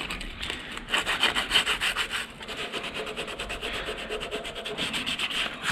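Hand sanding a brake part from a BSA Bantam motorcycle with 120 grit sandpaper, a steady scratchy rubbing in quick repeated back-and-forth strokes, close and fairly loud with no talk.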